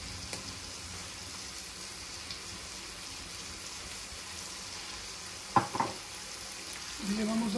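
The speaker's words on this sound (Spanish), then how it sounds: "Le vamos a dar unas vueltecitas." Rebollón mushrooms fry gently in a pan with garlic as parsley is stirred in, giving a quiet, steady sizzle with a couple of brief scraping knocks from the stirring near the end.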